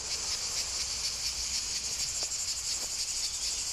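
Dense cicada song fills the air in a continuous, shrill buzzing chorus, steady and fairly strong, with no voices over it.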